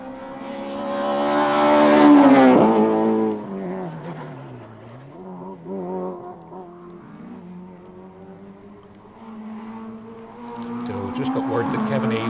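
A Toyota Corolla rally car driven by Corey Eves at the West Cork Rally roars past at speed, engine rising to a loud peak then dropping through gear changes and fading, with another surge of revs at the close.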